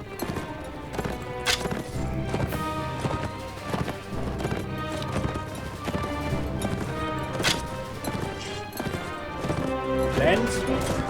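Horses gallop in the medieval battle game Mount & Blade Warband, a dense, fast clip-clop of many hooves during a cavalry charge, loud and continuous with crashes and game noise layered over it.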